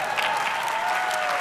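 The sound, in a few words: audience applause at Harvard comedy talk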